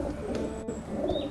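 A racing pigeon hen gives a short, close, soft coo, heard alone.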